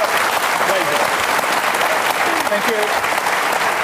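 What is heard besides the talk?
audience applause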